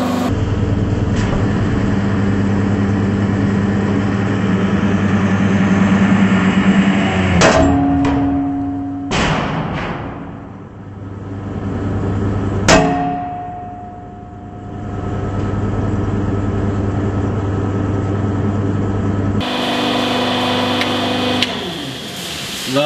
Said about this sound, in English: We wanted to crush the red hot nickel ball